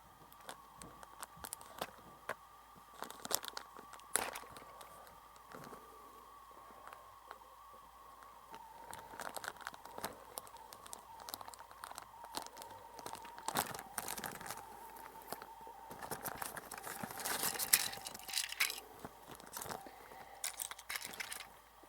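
Scissors snipping and tearing through toy train packaging while unboxing a Tomy Plarail RWS Thomas, a close, quiet series of irregular crinkling cuts and plastic rustles with no talking.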